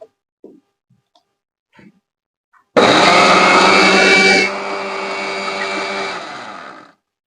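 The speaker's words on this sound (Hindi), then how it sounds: "अब इसको फिर से ग्राइंड कर देंगे दोस्तों" A kitchen mixer grinder whirs loudly while grinding Parsi-style dhansak masala with added turmeric powder, starting abruptly after a few faint taps, dropping to a lower steady drone partway through, then stopping.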